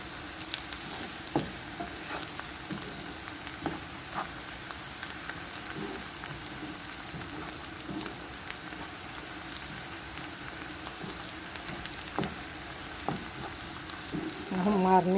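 Marinated onions seasoned with paprika fry with a soft, continuous sizzle and occasional stirring taps. The sound is faint and steady, with a slightly louder stir near the end.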